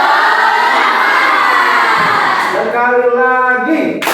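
A class of students on their feet performing a spirit clap chant (tepuk semangat) during an ice-breaking activity, a loud continuous mass of young voices and clapping that swells and shifts into a rhythmic, chanted pattern near the end.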